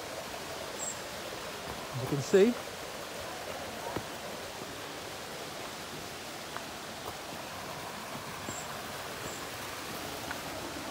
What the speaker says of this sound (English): And now we're coming to the big waterfall, which is quite something,